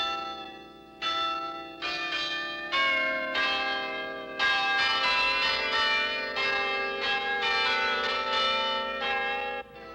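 Carillon bells played from a tall university campus tower, a sequence of loud ringing bell strikes about one per second with long overlapping resonant tones, no voices.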